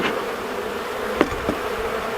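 Honey bees buzz in a hive being smoked after a cold Texas winter, forming a dense, continuous close drone with a couple of soft knocks partway through.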